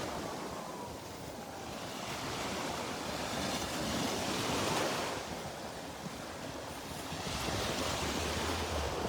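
Surf washes in at a beach in Delnor-Wiggins Pass State Park, a soft continuous roar of waves that swells gently, with faint wind across the microphone and no voices.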